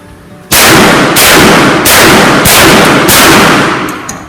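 A Derya MK12 shotgun fires five loud, booming shots in steady succession at close range, each blast ringing out and overlapping the next during a test-firing.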